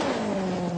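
A Ford Escort rally car's engine revs hard on a rally stage in 1980, a steady loud mid-pitched roar with a sustained tone across the short burst.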